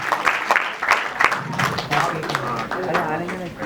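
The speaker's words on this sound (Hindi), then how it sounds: "जिमी शेरगिल साहब के लिए एक बार जोरदार ताली होनी चाहिए" An audience at the Shortcut Safari trailer launch gives Jimmy Sheirgill a burst of loud clapping and cheering, while an announcer keeps talking over the crowd.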